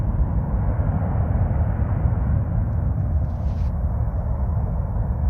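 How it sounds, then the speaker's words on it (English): Airbus Beluga A330-743L taking off from Amiens airport, a loud, steady low jet-engine roar that holds constant throughout without any talking. "That's a Beluga Airbus aircraft."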